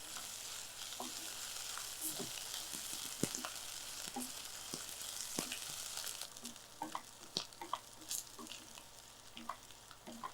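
A moist spinach and chickpea mixture frying in a pan, crackling and spluttering with frequent sharp pops over a constant soft sizzle, close and fairly quiet.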